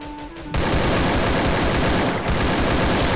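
Loud, dense gunfire from the battle royale game Free Fire erupts suddenly after a brief quiet moment and keeps up as a continuous volley of shots and bursts until the end.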